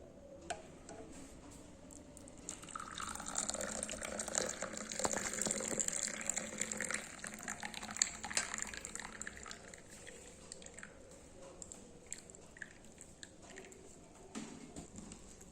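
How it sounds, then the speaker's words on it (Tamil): Hibiscus and masala tea is poured through a strainer, making a trickling, splashing stream that builds in the middle and then tapers into drips, fairly quiet and close with no talking. "டீ வடிகட்டிக்கலாம்."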